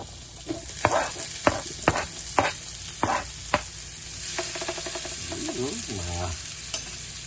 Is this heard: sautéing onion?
yes